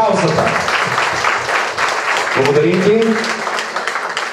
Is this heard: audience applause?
yes